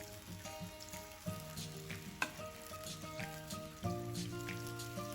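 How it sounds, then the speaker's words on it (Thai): Holy basil sauce bubbles and sizzles as it simmers in a pan, a close, steady crackle of small pops with a few louder spits and a low cooking hum beneath. "ก็เคี่ยวสักพักหนึ่ง"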